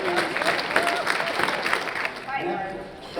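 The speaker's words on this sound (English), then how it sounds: "Give yourselves a round of applause." Audience applause from a crowd at a panel presentation, a steady wash of clapping lasting a few seconds with voices mixed in over it.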